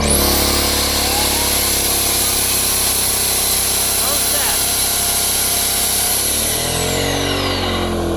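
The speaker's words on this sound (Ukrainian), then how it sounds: "ще раз пускаємо пилу і дрель" An electric saw and drill run loud and continuous on generator power, a high electric whine with grinding underneath, then wind down near the end as the generator is overloaded.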